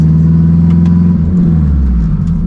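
A car on slick tires revving hard as its wheels spin and the clutch slips; a loud, close, steady engine drone that dips briefly midway before climbing again.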